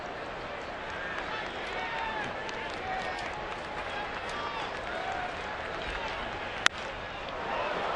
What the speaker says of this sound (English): crowd that's into this ball game.